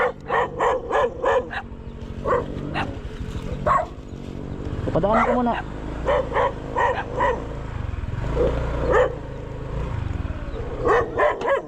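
A dog barks repeatedly in short bursts, fairly close, while a person talks over and between the barks.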